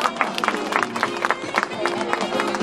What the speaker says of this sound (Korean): 여러분 박수 부탁드리겠습니다.